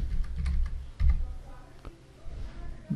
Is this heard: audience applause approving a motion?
no